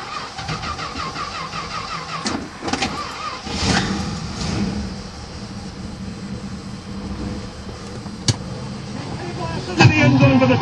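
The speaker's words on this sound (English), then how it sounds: "Of course, it's got the old, good old Chrysler sound." The engine of a 1963 Dodge with a Chrysler motor runs steadily at moderate volume, with a few sharp knocks and a brief louder burst near the end, under intermittent talk.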